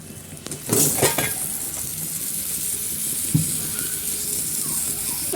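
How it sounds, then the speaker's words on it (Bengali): Vegetables with salt and spices stirred in a hot pan, a loud burst of spatula scraping and clattering early on, then a steady close sizzle with occasional stirring knocks, no talk. "উপর থেকে লবণ দিয়ে ভালো করে নাড়াচাড়া করে নিয়েছি"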